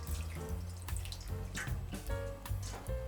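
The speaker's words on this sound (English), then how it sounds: "now we remove the Katsuo bushi by pouring it through a sieve" Dashi stock is poured through a sieve to strain out katsuobushi, giving a close, continuous splashing and trickling of liquid with bubbly, irregular drips and gurgles throughout.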